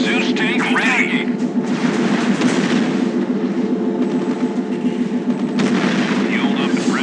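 Battle sounds from a real-time strategy video game fill the clip: continuous gunfire and artillery rumble under a steady game music bed, with occasional chirping unit effects, loud and dense throughout.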